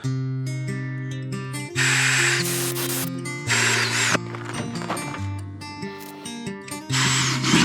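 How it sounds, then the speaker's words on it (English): A jigsaw cuts through a door card template for custom car door panels, a loud buzzing motor with rapid blade chatter in several sustained runs and brief changes in pitch. "I'm going to be using a jigsaw."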